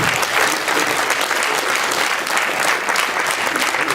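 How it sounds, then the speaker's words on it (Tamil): An audience at a CD launch event claps loudly, a dense and sustained burst of applause from a crowd that holds steady from start to finish. "அதற்கு ஒரு பெரிய கைத்தட்டல் நாம் வழங்க வேண்டும்."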